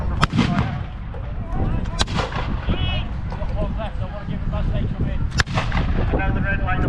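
Artillery fire at a reenactment battle with French guns opening up: several sharp, loud booming shots at intervals over a continuous crowd and battlefield din, with voices talking throughout.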